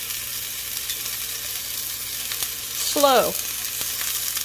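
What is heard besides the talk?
sliced king mushroom caps sizzling in a frying pan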